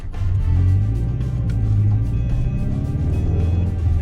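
A 2012 Subaru Forester with a newly replaced transmission on its first test drive, its engine holding a steady close rumble in neutral while faint rattles and taps come from the cabin.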